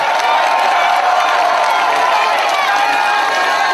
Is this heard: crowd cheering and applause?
yes